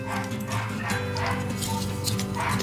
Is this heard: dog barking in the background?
yes